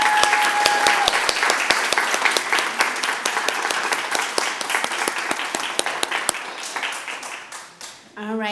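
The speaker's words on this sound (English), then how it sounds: "give you a round of applause for your labor of love," Applause at a neighborhood leadership institute graduation ceremony, a crowd clapping steadily with sharp individual claps standing out, gradually thinning and fading toward the end before a brief other sound.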